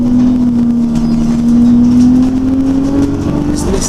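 Alexander Dennis Enviro 200 bus engine running steadily with a sustained drone whose pitch rises slightly as it pulls away, heard close and continuous with no talk over it.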